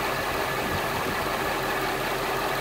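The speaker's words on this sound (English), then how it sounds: "Here the RPMs just go up and go down." A Mercedes W211 E55 AMG engine idles roughly, its RPM rising and falling around 600–660; the steady mid-low drone runs continuously and fairly loud, with no talking.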